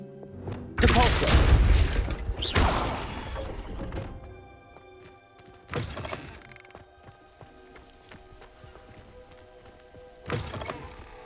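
Depulso force spell cast in Hogwarts Legacy, a loud booming thump with a second heavy hit, then quieter thuds spaced several seconds apart.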